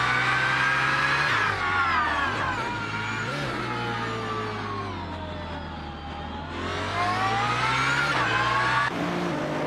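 Sustained engine roar of race cars lapping a track in a racing video game, including a 2012 Subaru BRZ and a 2003 Ferrari 360, with steady revving, gear shifts and pitch swells, loud and continuous with no talk.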